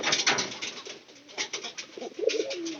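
Pigeons coo in a loft, with low, rolling coos swelling and fading over a bright background of rustling and scratching. Several calls overlap, close and fairly loud, and no one speaks.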